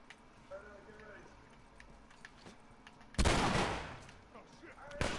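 A shotgun blast in The Last of Us, a sudden loud boom from a gameplay session that decays over about a second, followed by another sharp hit near the end, after a stretch of quieter game ambience.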